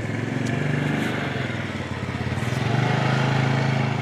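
A motorbike engine runs steadily and close by, a continuous buzzing drone with a slight rise in pitch partway through, heard alone without talk.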